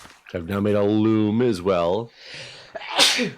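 A single loud sneeze bursts out at close range right after a stretch of speech, during a Minecraft gaming session with people chatting.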